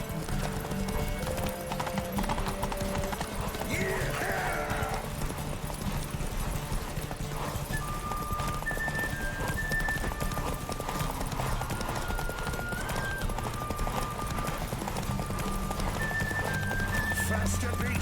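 Horse galloping in The Witcher 3 video game, its rapid clip-clop hoofbeats running continuously and loudly with a brief whinny, under in-game music and a voice speaking.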